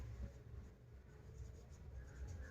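A pen scratches softly across paper while a Class 10 maths solution on real numbers is written out by hand, a faint, continuous close scribble over low room noise.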